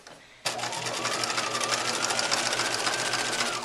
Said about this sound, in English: line up with the inside edge of the presser foot because you want to stitch very close to the casing. Back stitch there.